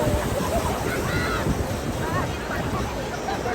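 Large ocean waves surge and break at RK Beach in Visakhapatnam, a loud continuous roar of surf with people talking over it.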